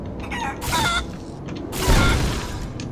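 Chicken clucks and a rooster-like crow from Guacamelee 2, in two short bursts over game music and effects, the second louder.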